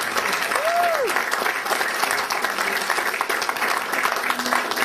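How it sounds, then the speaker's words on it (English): A crowd applauds steadily and fairly loudly for several seconds, with a brief whistle early on. "let's have a round of applause for the man, Lonnie Lee."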